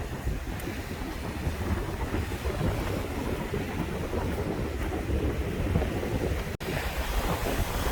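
Steady, loud wind sweeps a Lake Erie beach at Headlands Dunes State Park, buffeting the microphone with a constant low roar and surf-like rush, with no one speaking.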